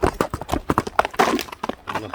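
Horse named Tumar, once raced by wrestlers, walking with quick rhythmic hoof clops close by, a brisk irregular patter under a faint voice.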